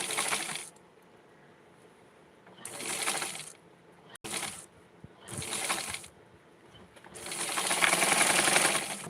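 A sewing machine stitches the bottom hem of a Barbie doll skirt in several separate bursts of steady buzzing, with pauses between runs and a longer final run; no talking.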